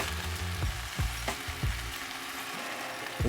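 Tomato paste and water bubbling and simmering in a frying pan for meatball sauce, a steady sizzling hiss with irregular pops and small spits, close and continuous, no talking.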